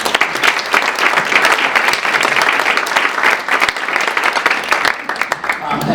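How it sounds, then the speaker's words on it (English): Sustained applause from a breakfast-event audience honoring sponsors, dense steady clapping throughout with some crowd murmur, tapering slightly near the end. "please, a round of applause for our sponsors"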